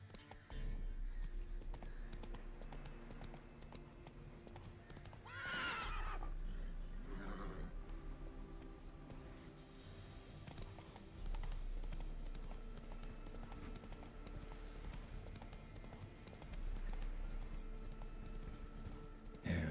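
A horse gallops in The Witcher 3 video game, its hooves a steady clip-clop rhythm with a whinny partway through, heard faintly and with no talk.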